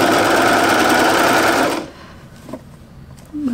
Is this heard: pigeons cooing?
no